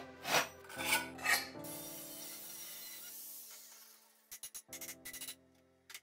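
A hand file or rasp chamfering the edges of thick steel plates for a weld seam: three loud, close rasping strokes, then a long fading ring of the metal, followed by a quick run of short scraping strokes.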